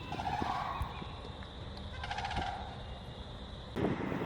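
A sandhill crane in spring calls in a loud, rattling, gobbling burst at the start, followed by quieter scattered calls and a short rattling trill. A sharp louder call comes near the end, with outdoor background and no speech.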